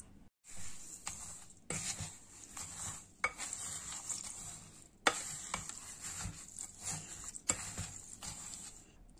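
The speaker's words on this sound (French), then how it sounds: "On va tout mélanger maintenant et on se retrouve après." Spoon or utensil scraping and clinking against a pot as ingredients for oat and dried-fruit bars are mixed, in irregular strokes with brief pauses, close up with no talking.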